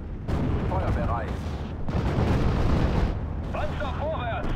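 Artillery firing in the World War II strategy game Steel Division: Normandy 44, loud booming blasts and rumbling explosions with whistling shells, heard alongside shouted in-game voices.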